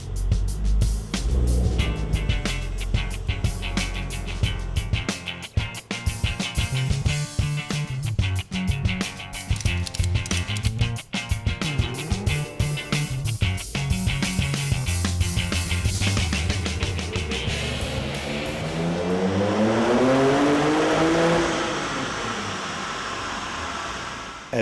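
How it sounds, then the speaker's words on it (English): A RUF Porsche runs on a dynamometer in a dyno room. The engine drones loudly and continuously with choppy pulsing, then its pitch climbs steadily toward the end. "comes to our dyno room and is being tested in the dynamometer"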